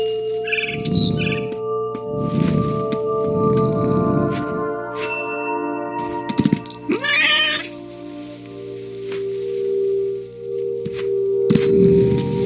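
A cat meows in the video game What Remains of Edith Finch, a few clear drawn-out meows in succession over a sustained ambient music drone, followed by tinkling chimes and a brief chirping flutter.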